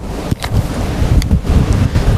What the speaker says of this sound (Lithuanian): Labai didelis vėjas